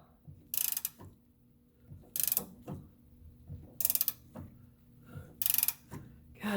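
A hand ratchet wrench clicks in repeated bursts while loosening a tight lock nut on the front stabilizer link of a 2006 Volkswagen Jetta TDI, four close, crisp rattling strokes with soft effort noises between them.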